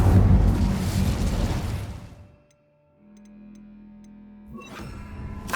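A roaring burst of the Incendio fire spell in Hogwarts Legacy, loud and broadband for about two seconds, fading into near silence and ticking hums before another rush of sound swells near the end.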